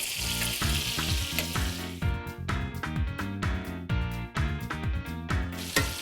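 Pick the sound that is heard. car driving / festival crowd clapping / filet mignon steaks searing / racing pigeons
filet mignon steaks searing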